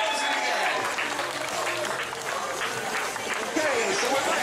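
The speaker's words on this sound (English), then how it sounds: "Give it a huge cheer, ladies and gentlemen" A crowd at an English village eating championship in Frampton on Severn applauds the reigning spaghetti-eating champion, with steady clapping and cheering from many people in the open air as a voice speaks over the noise.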